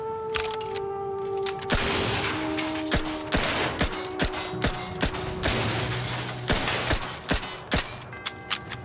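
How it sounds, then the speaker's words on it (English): Rapid gunfire from a player's weapon in The Outer Worlds 2, a steady run of sharp shots spaced about every half second, loud and close over a dense game soundscape with music and ambient drone. "Am I shooting this? I guess I am shooting this."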